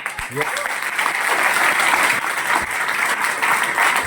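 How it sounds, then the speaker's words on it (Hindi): Steady applause from a crowd, loud and sustained throughout, with dense clapping and a brief voice near the start. "ताली जोर से बजाया करो।"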